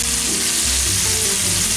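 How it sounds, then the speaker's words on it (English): Mushrooms and onion with salt, pepper and basil sizzle loudly in a skillet, a dense continuous close frying hiss with low rumbling pops and stirring underneath, no talking. "And now we'll go in with our mushrooms"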